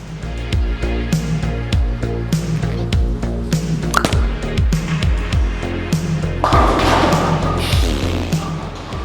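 A Hammer Hammerhead Pearl bowling ball rolls down the lane with repeated heavy thuds and a rumbling roll, then a bright clattering crash near the end, set against a busy, echoing bowling alley.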